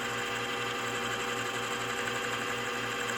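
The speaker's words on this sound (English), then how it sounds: "I'm just showing my version of running a boring head" A boring head on a machine turns slowly, taking fine cuts on an air compressor connecting rod, giving a steady, moderately quiet mechanical hum with a faint repeating pulse.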